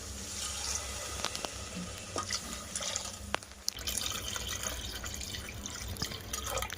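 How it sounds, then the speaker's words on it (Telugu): Water is poured into cooked spice masala in a pot for tomato rice, a close continuous splashing pour with drips, briefly pausing midway before flowing again. "ఇప్పుడు మనం ఇందులోకి 3 గ్లాసెస్ ఆఫ్ వాటర్ వేసేసుకుందాం"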